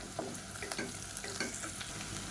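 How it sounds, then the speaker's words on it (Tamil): Sliced onion sautés with salt in a pan for biryani, a soft steady sizzle broken by repeated light scrapes and clicks of stirring. "இப்போ வெங்காயம் நல்லா வதங்கிடுச்சு."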